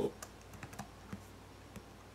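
Computer keyboard keys tapped in a light, irregular series of clicks, heard alone at moderate level.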